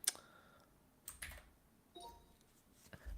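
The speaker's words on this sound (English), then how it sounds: "why am I typing?" Sparse clusters of computer keyboard keystrokes, a few quick taps at a time separated by quiet pauses, fairly soft and close, with no voices.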